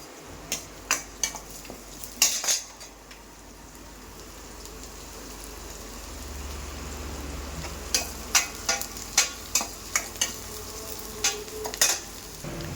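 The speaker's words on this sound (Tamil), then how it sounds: "இந்த வெங்காயம் கொஞ்சம் பொன் நேரம் வர வரைக்கும் நல்லா வதக்கிக்கோங்க அது கூட கொஞ்சமாக கருவேப்பிலை" Onions and curry leaves sautéing in a pan for okra stir-fry, a steady soft sizzle broken by sharp clicks of a spoon scraping the pan in irregular bursts, no talk.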